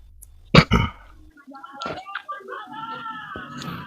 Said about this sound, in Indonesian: Udah benerin dulu batukmu itu.